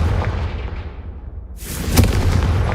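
A Confringo fire spell explodes in Hogwarts Legacy: a low rumbling build followed by a sharp, booming blast with crackling debris, loud and close.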